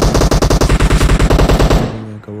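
Automatic gunfire in PUBG Mobile, played on an iPhone 8 Plus: a loud, close, rapid burst of evenly spaced shots lasting nearly two seconds, then cutting off into a short ringing tail.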